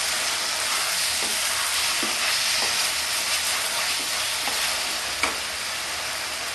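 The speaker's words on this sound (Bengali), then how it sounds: "আবার নাড়াচাড়া করবো দেখুন তেলটা ছাড়া ছাড়া হয়ে এসেছে মাংসটা সিদ্ধও হয়ে গেছে" Boneless Bengali-style chicken curry sizzles steadily in oil in a pan while it is stirred, giving a continuous hiss with faint scraping strokes and a small clink near the end.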